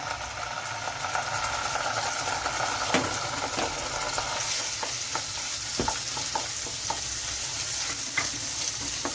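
Ginger garlic paste fries in hot oil for a malai chicken curry, giving a steady close sizzle broken by occasional spoon scrapes as it is stirred, with no voices.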